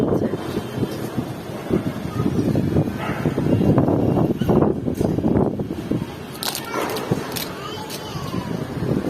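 Steady outdoor wind rumbles and buffets throughout on a dusty treeless village road, with a voice talking over it and brief sharper noises near the end.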